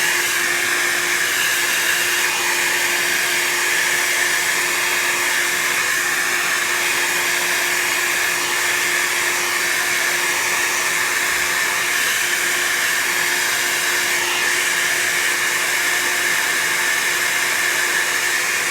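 Heat tool blowing on alcohol ink, a steady, continuous electric whirring blow with a constant motor hum, close and unchanging throughout with no pauses.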